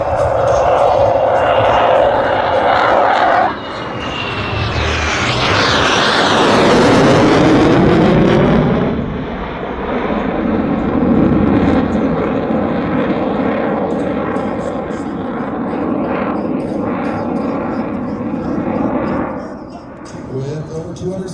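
Jet aircraft at an airshow roars in toward the crowd, its loud engine noise swelling and sweeping past in a sharp Doppler rise and fall, then a lingering rumble as it recedes.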